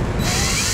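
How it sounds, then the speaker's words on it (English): A drill bit bores through the plastic fascia of a 2014 Jeep Patriot during a trailer wiring install, a loud, steady grinding whir close up for under a second. "You can see it takes little effort for the drill bit to go through the plastic fascia."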